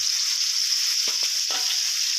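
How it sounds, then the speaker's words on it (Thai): Food sizzles loudly and steadily in a hot oiled wok, with a few brief scraping stirs of a utensil partway through. "อ่านี่ครับผัดให้หอมเลยนะครับ"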